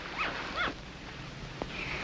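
A dog whimpers in a 1950 film, two thin high whines in quick succession followed by a faint short yip, soft against a hissy background.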